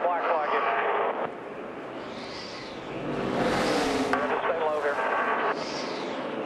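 A NASCAR race car engine running down a cylinder at Phoenix roars past on track, rising and falling as it passes, under a commentator's talk.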